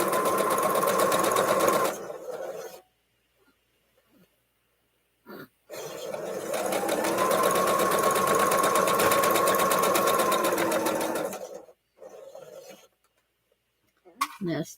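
A sewing machine stitching fabric runs in two long steady bursts, close and loud, separated by quiet gaps with brief handling noises.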